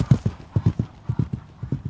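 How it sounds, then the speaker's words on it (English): A horse's hooves clip-clop in a quick, uneven rhythm of sharp close knocks, with no clear neigh standing out. "Stories describe it appearing as a black horse"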